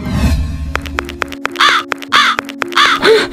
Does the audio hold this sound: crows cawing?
yes